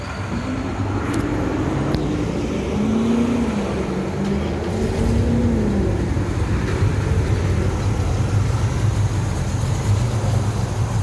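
A 1970 Pontiac LeMans with a 461 Pontiac V8 idles loudly and close by in a steady, even rumble, with a slight rise and fall in pitch partway through.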